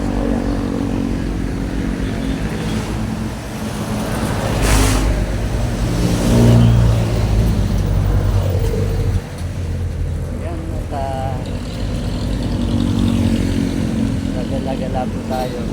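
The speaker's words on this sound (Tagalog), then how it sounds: "Sa kabila po makikita natin yung nagugulis na takbo na sasakyan." Cars and motorcycles pass on a busy highway beside a walkway near a market in Dasmariñas City, a continuous roar of engines with rising revs as vehicles go by close, while a person talks over the traffic.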